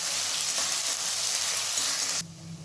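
Ginger, garlic and green chilli paste frying with onions in a pan for mutton curry, a steady close sizzle with faint stirring that cuts off sharply near the end.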